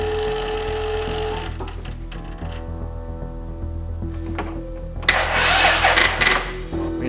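An Arctic Cat ATV engine cranks over on a weak battery, a steady, laboured mechanical whirring that runs for about seven seconds, with a louder, harsher surge near the end and no talking.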